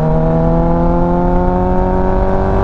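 A Kawasaki ZX14r motorcycle cruising on a long country road without hard throttle gives a steady, close, droning engine whine whose pitch creeps slowly upward.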